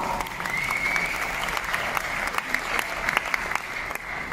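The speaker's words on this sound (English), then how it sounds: "So big applause for the mom" Sustained applause from guests at a birthday party held during a blockchain networking event, honoring the host's mother, with continuous clapping of moderate loudness and a few sharper claps standing out near the end.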